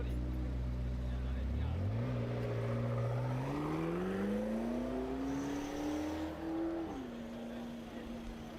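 McLaren supercar with a 3.8- or 4-liter twin-turbo V8, revving as a steady engine drone rises in pitch across several seconds, dips at a gear change and settles, fairly loud and close throughout.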